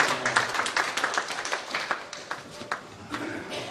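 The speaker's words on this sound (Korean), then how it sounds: "박수 한번 쳐드리겠습니다" Church congregation clapping for honored elders, a scattered, uneven patter of hands that thins toward the end, fairly quiet and roomy.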